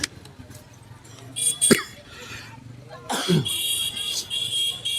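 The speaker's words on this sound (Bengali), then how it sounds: "কাশি হচ্ছে মাঝে মাঝে, এটা অসুখ হয়েছে আমার" A man coughs twice, a sharp burst near the start and a rougher, longer cough later, both loud and close over a murmuring crowd and faint background noise at a religious gathering, with no speech.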